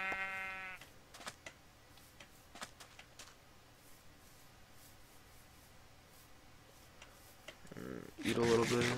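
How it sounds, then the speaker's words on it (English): A sheep bleats briefly and loudly at the start in Minecraft 1.8.1 survival, followed by quiet game ambience, with another burst of bleating near the end. "Come here, you sheep."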